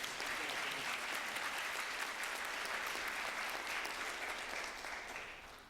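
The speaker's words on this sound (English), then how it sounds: "can we please give him a round of applause" An audience at a high school academic awards ceremony gives a long, steady round of applause for the event organiser Mr. Eastman, dense and even, tapering off at the end.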